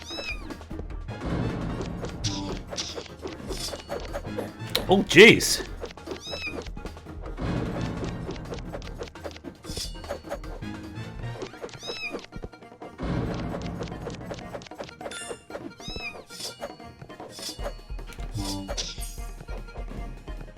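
Kitten in an indie video game meowing in repeated short cries among crashes and thumps of gameplay, with occasional brief speech.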